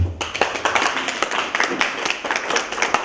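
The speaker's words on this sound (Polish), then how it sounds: "Jeszcze raz gorące brawa." An audience gives warm applause at a talk about the Kurpie region, with steady, fairly close rhythmic clapping that fills the whole stretch without any voices.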